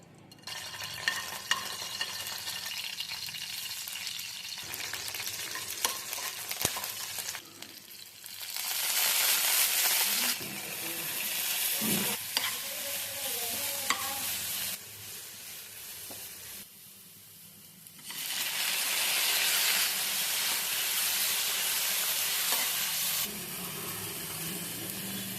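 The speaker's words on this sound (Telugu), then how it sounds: "ఒక 3 ఎండుమిర్చి వేస్తున్నాను." Dry red chillies frying and being stirred in a pan with ridge gourd peel, tomato, green chillies, tamarind and sesame seeds, giving bursts of loud sizzling that come and go between quieter stretches of scraping and stirring.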